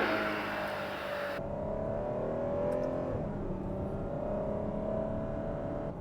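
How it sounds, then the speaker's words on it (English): A Ferrari 12Cilindri V12 supercar engine revs while driving, a loud, steady close-up drone whose pitch climbs and falls through the rev range, with no voices. "What I've loved about driving this V12 is just the breadth of this rev range."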